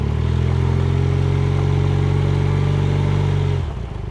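A 1978 Honda CB400A Hondamatic motorcycle engine roars in a loud, close, steady drone that falls away abruptly near the end.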